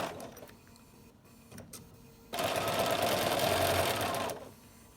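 Sewing machine stitching down quilt binding, a quiet start with scattered clicks and handling noise, then a burst of steady, rapid mechanical whirring for about two seconds before it stops.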